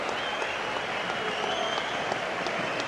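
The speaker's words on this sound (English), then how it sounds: "And the fans applaud." Boxing fans applauding at a ringside bout, a steady hiss of distant clapping filling an arena, even and sustained with no talk over it.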